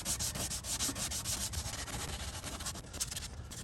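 Steady, close rasping strokes of 80-grit sandpaper rubbing across a Chevrolet Volt body panel, continuous with a rhythmic back-and-forth texture.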